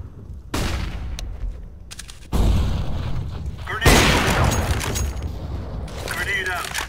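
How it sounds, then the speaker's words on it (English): A flashbang grenade detonates in a video game, giving several loud, sharp broadband bursts a second or two apart, each leaving a ringing wash of game noise with voices in the background. "Flashbang."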